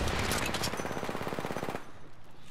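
Rapid automatic gunfire in Apex Legends, a loud, fast burst of evenly spaced shots that stops abruptly after under two seconds, leaving quieter background noise.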